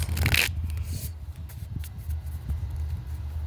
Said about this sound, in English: I'm only going to shuffle these once